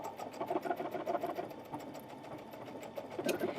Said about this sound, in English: Let me stitch away so you can see that.